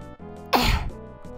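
A single short, forceful burst like a cough or throat-clearing, standing alone over a steady background hum.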